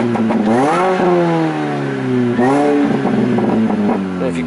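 A 1.6-litre MINI Cooper S with 168 bhp, a stainless exhaust and a map tuned for pops and crackles, revved twice in close-up, each rev rising and falling with crackling bursts from the exhaust.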